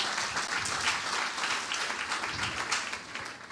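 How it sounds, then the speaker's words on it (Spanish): A congregation at a Spanish-speaking church in Barakaldo, Basque Country, gives steady, dense applause to welcome a member. The clapping fills the room evenly throughout. "Un fuerte aplauso para Alejandra también."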